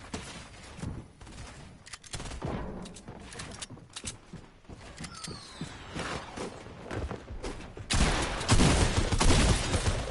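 Shots in a video game shooter: scattered gunfire with sharp cracks and smaller pops at moderate level, building into a denser, heavier burst toward the end, with no voices.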